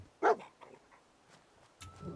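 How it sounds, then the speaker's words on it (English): Dog in the video game Fallout 4 giving a sharp bark followed by soft whimpers and small yips, short and fairly faint against a quiet background. "Oh, it's a puppy."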